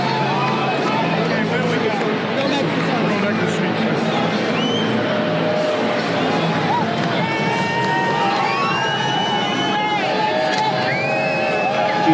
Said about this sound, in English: Cheers are building.